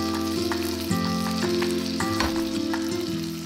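Tilefish fillet pan-frying in oil over medium-low heat in a nonstick pan, a steady close sizzle with soft scraping and shifting of the fish throughout, no talk.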